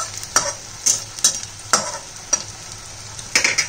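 Lentil fritters (bora) frying in a pan, a low sizzle broken by a series of sharp scraping and tapping spurts from a spatula at irregular intervals, close and moderately loud, with no talk.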